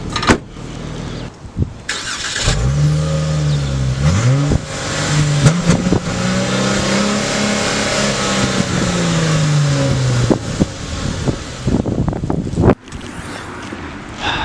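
Dodge Charger SXT AWD engine starting up and revving in a few rising and falling sweeps, loud and close, with clunks and footsteps around it and a sharp thud near the end.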